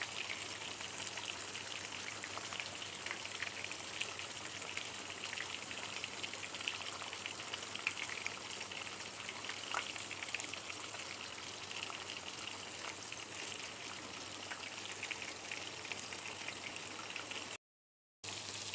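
Hilsa fish fry in hot oil over high heat, a soft and steady crackling sizzle full of fine spits and pops. It holds at a low level throughout with a brief dropout near the end.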